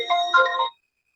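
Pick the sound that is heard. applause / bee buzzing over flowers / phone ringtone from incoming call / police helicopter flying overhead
phone ringtone from incoming call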